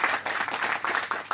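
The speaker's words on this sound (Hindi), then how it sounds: "तो इसके लिए पूरी टीम को जोरदार तालियों से" Audience applause for a ghazal song team at a music event, a brief dense burst of many hands clapping, fairly loud, with no speech over it.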